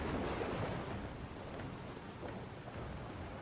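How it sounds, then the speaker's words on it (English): Rolling ocean waves and gusting wind around a sailing ship in the fantasy game Pillars of Eternity 2: Deadfire, a steady, soft wash of surf and airy rush with no clear breaks and no voices. "Your ship crashes through the waves as wind drives it forward."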